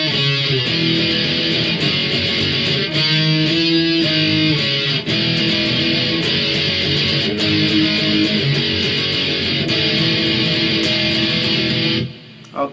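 Distorted electric guitar power chords chug through a chorus, dense and loud throughout, with steady strummed rhythm and occasional chord changes before stopping abruptly near the end.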